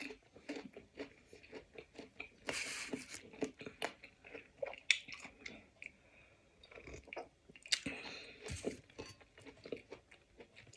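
Close, quiet chewing of crunchy persimmon, with crisp bites and wet crunches in an irregular rhythm and no talking.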